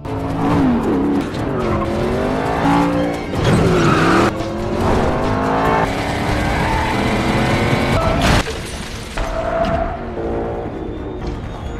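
A car chase in an action film: loud roaring engines with rising and falling revs, screeching tire squeals and skids throughout, and a sharp impact-like break near the end, no talk.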